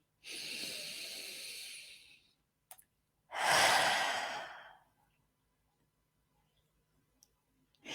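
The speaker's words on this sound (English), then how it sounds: "Big deep breath in and really blow it out" A person draws in a long, deep breath and then blows it out slowly and audibly, two broad breathy swells close to the microphone, followed by near silence.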